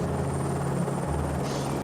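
A helicopter flying over remote mountain summits, a loud steady rotor and engine drone with a pulsing throb close by, cutting off abruptly at the end.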